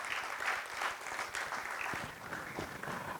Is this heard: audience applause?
yes